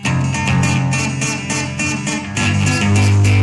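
Acoustic guitar playing a piece from August Rush, a fingerpicked passage of ringing notes and low bass strings, close and loud with no talking.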